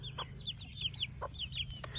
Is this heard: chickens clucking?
yes